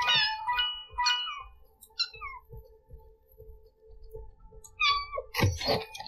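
Several kittens in the video game Kitten'd meow in high, wavering cries, some overlapping, over low thumps of game clatter and a sharper burst of noise near the end.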